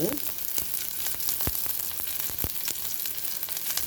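Onion and garlic fry with mustard seeds and cumin in a pan for brinjal chutney, a steady close sizzle with a few sharp crackles and pops.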